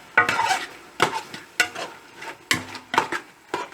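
Lamb chops masala with chili, turmeric and garam masala powders is stirred in a pan, giving about seven distinct rhythmic scraping strokes of a spoon with light sizzling in between.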